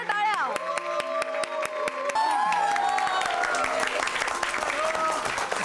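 Loud applause from a studio audience greeting the next contestant in a TV show, steady dense clapping under a bright sustained music bed, close and full throughout.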